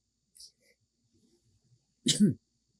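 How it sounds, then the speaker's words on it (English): A single sharp, explosive cough up close, preceded by a faint breathy sound in an otherwise quiet room. "Sorry, I had to cough"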